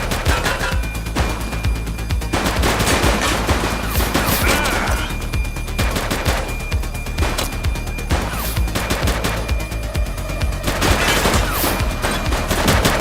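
Sustained gunfire in a police shootout from the video game The Precinct, with dense overlapping bursts and rapid shots throughout, loud and continuous with crashing impacts.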